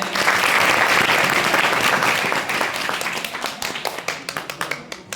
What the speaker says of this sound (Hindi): एक बार सब जो ताली बजाएं